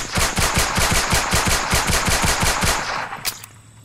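Sustained machine gun fire in a video game, a close, loud, steady rapid rhythm of about a dozen evenly spaced shots lasting three seconds before stopping, with no talk.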